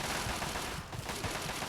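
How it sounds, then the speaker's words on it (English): Rapid gunfire in the video game Fallout 3, a dense and continuous burst of shots at moderate loudness. "I can't hear the question over the gunshots."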